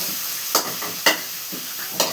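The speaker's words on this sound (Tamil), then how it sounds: "பட்டை கிராம்பு கொத்தமல்லி வதக்கி வெங்காயம் தக்காளி பச்சை மிளகா" Cinnamon, cloves, onion, tomato and green chili sautéing in a pan for egg curry, a soft steady sizzle broken by three sharp spatula scrapes about half a second apart.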